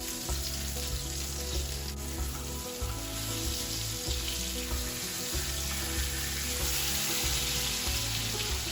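Salmon fries skin side down in an uncovered pan, a continuous close sizzle and crackle as the skin crisps, with a low droning hum pulsing underneath throughout and no voices.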